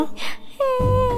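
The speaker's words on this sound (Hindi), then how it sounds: "कहीं से रोने की आवाज आ रही है।" Someone cries in a Hindi folk tale of Vikram and Betal about a lucky woodcutter: a short wailing, moaning voice rises and sustains tonally, preceded by a brief breathy sound, fairly close and clear.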